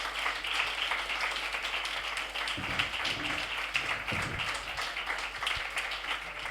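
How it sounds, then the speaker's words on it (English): Audience applause for two documentary filmmakers at a Q&A event, a steady wash of many hands clapping, with a few louder nearby knocks or thumps partway through. "give Theo and Phil another round of applause"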